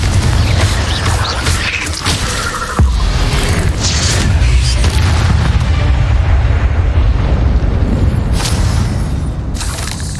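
Explosive Confringo spell blasts in the Hogwarts Legacy video game make a sharp boom near three seconds, followed by rumbling, crackling game effects and further bursts of spell noise without speech.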